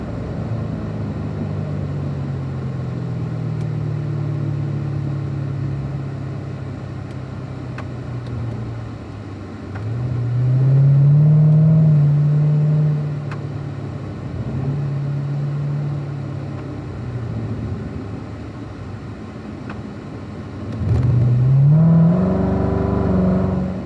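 A Corvette engine drones and rises through repeated acceleration surges on lead/follow laps at Spring Mountain race track, loud and close, with revs climbing, easing off and climbing again with no talk.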